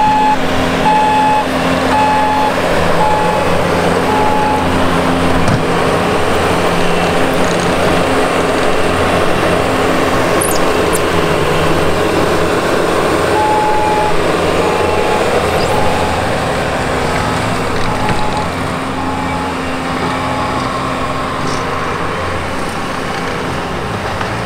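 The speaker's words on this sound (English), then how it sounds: "Got the wheel machine packing it here, the track machine spreading it to get a lot more level." Heavy earthmoving machines, a wheeled loader and a tracked machine, pack and spread dirt on new property, giving a loud, steady engine drone throughout with intermittent reversing beeps and no talk.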